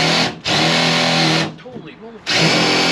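A power drill driving self-tapping screws into the steel of a 1957 Chevy two-door, two loud sustained whining bursts separated by a pause where someone talks, the drill starting up again at the end.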